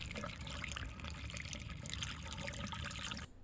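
Water pours through a funnel into an air conditioner drain line, a steady splashing, gurgling flow heard up close and fairly quiet, then cutting off abruptly near the end.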